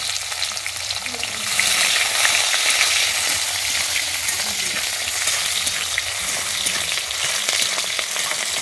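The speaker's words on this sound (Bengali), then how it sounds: "এই তেলে আমি দুটো পেঁয়াজকে হালকা করে ভেজে নিচ্ছি।" Two onions fry lightly in oil in a pan, giving a continuous close sizzle with stirring scrapes that swells slightly after the first second and holds steady, no talking.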